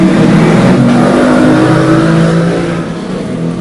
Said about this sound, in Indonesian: Bang Solai biasa lagi manasin motor ya, pakai aftur